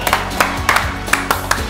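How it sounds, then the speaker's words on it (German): Audience applause at a German TV talk show, several quick bursts of clapping close together, moderately loud and ringing over a steady background. "Macht einen riesen fetten Applaus für Eckart von Hirschhausen!"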